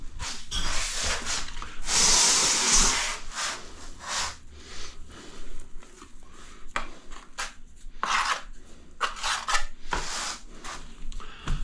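A 6mm notched trowel spreads tile mastic across a feature wall beside a bath, with repeated close scraping and rubbing strokes, one long loud pass early on followed by shorter, quieter scrapes.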